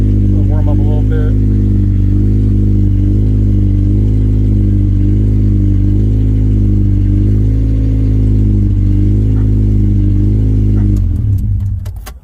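A car engine idles steadily and loudly close by, a continuous low rumble that ends with a brief clatter.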